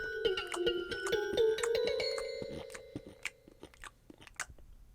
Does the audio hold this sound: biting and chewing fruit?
yes